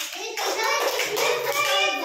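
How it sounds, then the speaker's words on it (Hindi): Hand clapping from a small group with children in a casual indoor setting, an irregular patter of claps mixed with children's voices and chatter throughout. "ताली बजाओ भाई, ताली बजाओ।"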